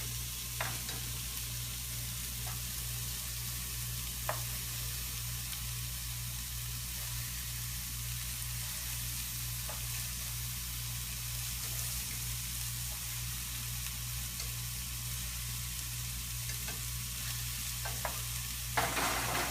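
Turkey meatballs sear in a pan, a soft even frying hiss running steadily with a few faint utensil taps, with a low steady hum beneath.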